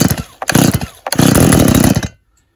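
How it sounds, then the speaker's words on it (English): A Stihl MS170 chainsaw with its choke on and chain brake engaged is pull-started, the cord ripping twice before the small engine catches and buzzes loudly at close range, then cuts off abruptly into silence. "So I'll just choke it there and then I'll pull it and see if it'll go."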